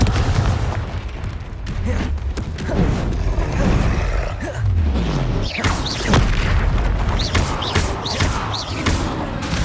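Repeated booming spell blasts from Confringo fired in the Hogwarts Legacy video game on PC, heavy thuds landing in quick succession amid other combat effects, loud and close throughout.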